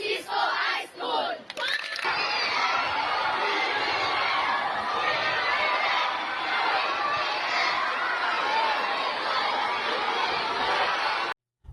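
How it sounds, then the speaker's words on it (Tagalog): Schoolchildren at a high school crowd together shouting and cheering loudly and continuously, a dense roar of young voices that holds steady before cutting off abruptly. "kita nyo naman ang hiyawan ng mga bata Talagang sumisigaw, tuwan-tuwa sila"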